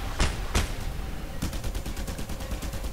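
Gunfire in the video game Just Cause 2: two heavy single shots, then a rapid burst of automatic fire over steady background game noise, loud and close, with no talking.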